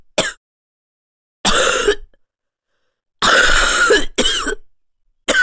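A person coughs several times in separate bursts, close and loud, with short silences between them and a quick double cough near the end.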